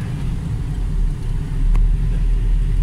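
Street traffic in Koronadal City, with tricycles passing, forms a steady low engine rumble that swells slightly as a vehicle moves by nearby, with no voices.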